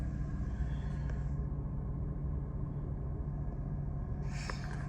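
A 2007 Mercedes SL550 fitted with coilovers drives along a road, giving a steady low interior rumble of engine and road noise, constant and moderately loud throughout with a faint whoosh at the end.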